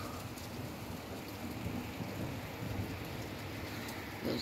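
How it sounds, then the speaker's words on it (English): Steady rain pouring during a summer thunderstorm, a dense continuous hiss with low rumbling underneath, fairly faint and distant-sounding throughout. "Rain's starting to pick up now."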